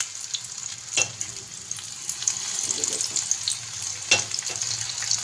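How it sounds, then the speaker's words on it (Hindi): Macaroni pakoras drop one by one into hot oil over a low flame, giving a steady soft sizzle with a couple of sharper bursts as pieces go in, fairly close and with no talk. "तो ऑयल देखें गरम है, इसमें मैं ये पकोड़े एक एक करके डालूँगी।"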